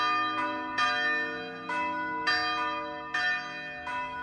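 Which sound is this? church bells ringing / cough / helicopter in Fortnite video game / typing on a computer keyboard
church bells ringing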